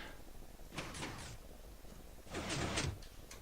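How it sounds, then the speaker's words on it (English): Drawbridges opening in modded Minecraft, two bursts of bright mechanical sliding whoosh, the first a quick triple rush and the second louder and longer, over a constant low hiss. "it's the sound of these drawbridges opening"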